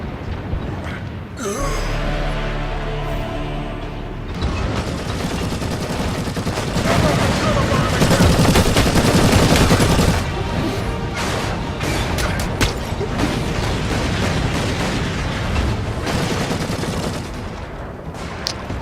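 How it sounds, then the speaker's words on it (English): Heavy bolter gunfire in a video game: dense, loud automatic bursts of booming shots firing almost continuously, with a short sigh-like voice sound near the start. "it does seem easier to kill people with this heavy bolter"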